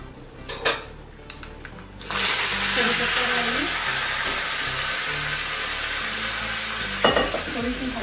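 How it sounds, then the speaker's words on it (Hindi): Cumin seeds hit hot oil in a tempering pan after mustard seeds have popped, giving a loud continuous sizzle after a few clinks and stirring sounds, with a brief utensil clatter near the end. "जब सरसों हमारी तड़क जाएगी, सरसों तड़क गई है, अब हम इसमें जीरा डालेंगे।"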